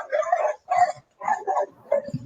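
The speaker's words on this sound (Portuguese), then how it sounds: "meus cachorros estão latindo bastante" Dogs bark repeatedly in bursts at a house in Brazil, loud and fairly close, with short gaps between the volleys and no talk over them.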